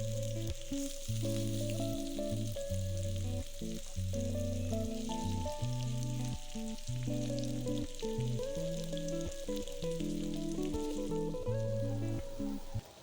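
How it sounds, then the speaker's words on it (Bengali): Marinated boiled potatoes fry in hot oil with panch phoron, giving a steady, loud sizzle and crackle throughout with occasional stirring scrapes. "এরপর এগুলিকে ভালোভাবে ভেজে নিতে হবে।"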